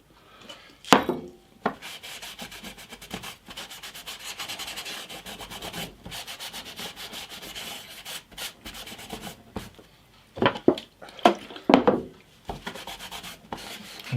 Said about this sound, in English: let's have a dab of finishing oil on it